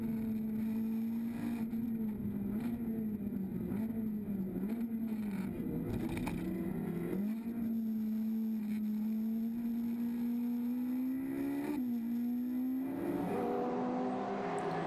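Race car engine heard from an onboard camera at the Zandvoort circuit, a loud continuous drone with shifting pitch as the car accelerates, brakes and changes gear, faint outside noise underneath.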